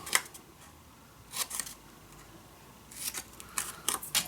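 Scissors snipping small squares off the corners of paper for a desk storage box craft: a few quiet, crisp cuts spaced apart against a soft background hiss.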